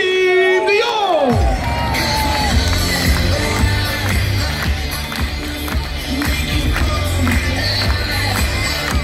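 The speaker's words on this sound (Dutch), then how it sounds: "Geef een groot applaus." A large crowd at the Ajax open day roars and cheers for footballer Siem de Jong, loud and continuous, with whoops, shouts and children's yells rising after a brief amplified announcement at the start.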